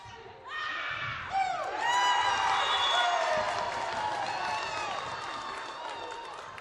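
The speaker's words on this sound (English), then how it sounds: "You can tell by the crowd who's winning." Crowd cheering and shouting at a high school girls and boys volleyball game, a loud, sustained roar with high-pitched voices and whistles that swells after a second and slowly tapers off.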